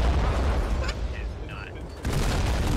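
Naval gunfire from a battleship in the game Foxhole: heavy booming cannon blasts with a rumbling low roar, one big burst near the start and another after a short lull, loud and close.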